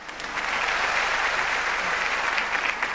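Audience applause at a ceremony honouring air force veterans swells into a steady, dense clapping from a large crowd, held at an even level throughout without a voice over it.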